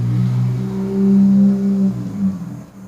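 Car engine revving in the ZGirls video game, a loud close mid-pitched roar rising and falling in a couple of swells before tapering off, with no speech.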